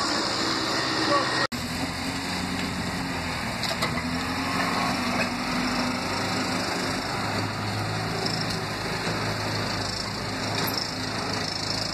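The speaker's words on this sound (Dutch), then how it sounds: "we were so happy that Lonja and his mechanics managed to get the Bohanka started" A UAZ Bukhanka van engine runs steadily after being coaxed back to life by mechanics, a continuous close mechanical drone with a sharp knock near the start and voices talking over it.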